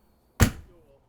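An exterior storage compartment door on a 2017 Thor Hurricane 34J Class A motorhome swings shut with a single solid slam, followed by a short fading rattle, heard alone and fairly close.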